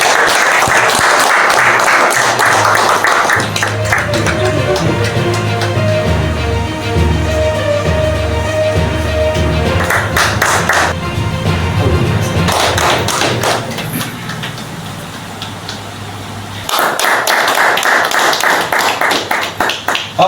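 An audience at the inauguration meeting of a Karnataka farmers', workers' and youth federation branch in Ilkal taluk claps in loud bursts at the start, briefly midway and again at the end, with a sustained tonal sound filling the gaps between.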